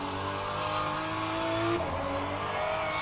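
Porsche 992 race car engine in the rFactor 2 video game, a loud, steady engine note that drops sharply midway as if on a gear change, then climbs again, with no voices.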